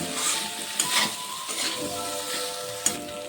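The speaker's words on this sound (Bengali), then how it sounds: "মশলাটাকে ভালো করে কষিয়ে নেব" Spice paste with tomato and Kashmiri chilli powder sizzles in a pan, loud and close, with repeated spatula strokes scraping and a sharp tap of utensil on metal near the end.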